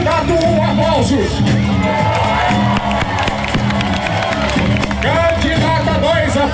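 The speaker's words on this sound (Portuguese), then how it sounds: "Candidato 1, aplausos." At a carnival Michael Jackson moonwalker contest in a Thriller street parade, a dense, loud crowd cheers, whoops and claps continuously for a contestant, with shouting voices throughout.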